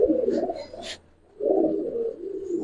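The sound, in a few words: pigeons cooing, silver khaki pigeons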